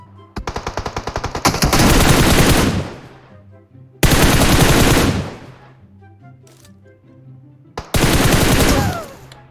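Gunfire in PUBG Mobile: a rapid rattling string of shots builds into a loud sustained burst, followed by two more heavy bursts with short pauses between them.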